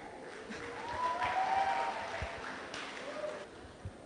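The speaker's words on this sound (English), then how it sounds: "a round of applause for that beautiful acoustic performance" Audience applause in a hall at a beauty pageant grand finale: a broad, diffuse wash of clapping that swells and then eases off, heard from a distance with some faint background tones and a few low thumps.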